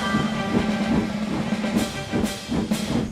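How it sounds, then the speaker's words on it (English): A train rumbles over a railway bridge in a low, continuous roar, with rhythmic clattering pulses and hissing bursts toward the end. "Presently, they rumbled over the bridge and onto the Fat Controller's railway."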